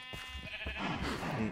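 Sheep bleating in Minecraft, a couple of wavering bleats close by over a steady low game ambience, with no talk.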